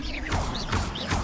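In the video game Hogwarts Legacy, casting the Accio summoning spell produces a series of loud, magical whooshing and mechanical surges that pulse repeatedly and fill the sound throughout.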